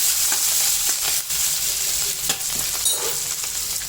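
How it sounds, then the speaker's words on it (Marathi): Loud, steady sizzling of a spice tempering with coriander leaves in hot oil, with occasional clicks and stirring scrapes throughout. "खमंगाची फोडणी करून घ्यायची चांगली"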